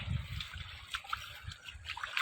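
Bundles of harvested crop are lifted out of flooded field water on a traditional farm, giving several close, irregular splashes and sloshing drips over a couple of seconds.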